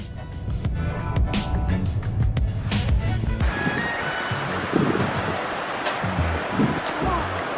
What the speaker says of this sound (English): So our second stop in the Golden Circle was the Gullfoss Waterfall